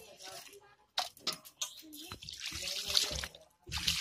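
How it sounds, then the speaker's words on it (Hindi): Small fish being rinsed by hand with poured water, splashing and sloshing in uneven bursts with a few brief pauses, close and moderately loud. "अब हम इसे धो लेते हैं।"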